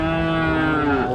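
A Friesian cow at a busy cattle market lets out one loud, close, drawn-out moo lasting just over a second, with no voices over it.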